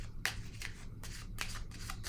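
A tarot card set down on a table among other cards, giving a few soft papery slaps and shuffling swishes in a quiet room, close and fairly faint.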